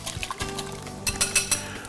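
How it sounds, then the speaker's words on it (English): Beaten scrambled egg poured into a pan greased with butter or bacon grease, a short liquid glug and soft trickle with a few brighter sizzling bursts near the end, close by, and no voices. "I'm going to pour that in and scramble it"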